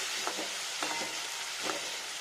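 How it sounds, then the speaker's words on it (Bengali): Spices sizzle in a hot pan with a constant soft crackle, and a spatula scrapes and stirs a few times. Quiet, with no voices. "এখানে একটু কষিয়ে নিই মশলাটাকে একটু ফ্রাই করে নিই"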